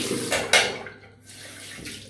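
Tap water runs briefly over a hand during a wet shave with a Razorock Gamechanger 84 razor and Balea Men Sensitive shaving cream, a short close splash that swells, then fades to a softer trickle.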